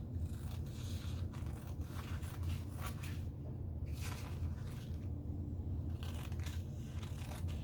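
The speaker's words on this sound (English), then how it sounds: "So I go ahead and cut one of these out." Scissors cut out a paper napkin for Bible journaling, producing a steady, close, scratchy rasp of paper and blades that runs continuously without pauses, with no voices.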